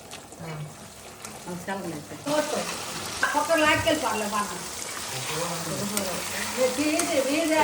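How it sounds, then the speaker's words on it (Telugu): A pan of tempering for pulihora, tamarind rice with peanuts and black chickpeas, fries with a constant sizzling hiss that grows louder partway through, while someone talks over it. "పులిహోరకి తాలింపండి అయిపోయింది"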